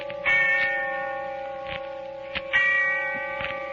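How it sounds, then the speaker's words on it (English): A church bell tolls twice, each deep, ringing strike fading slowly into a long resonant hum. "And the sound of the bell tolling away in the darkness of early evening."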